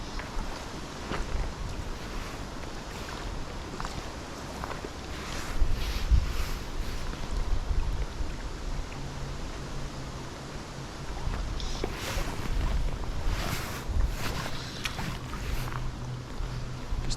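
Steady wind gusting across open water by a riverbank where someone is fly fishing, a broad continuous rush that swells and eases, with brief buffeting on the microphone and no voices.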